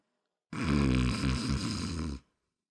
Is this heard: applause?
no